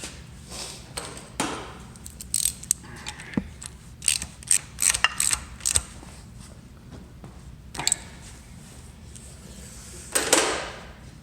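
A bolt is tightened on a Jaguar E-Type engine with a ratchet, giving close, short bursts of clicking and metallic clinks separated by quiet pauses.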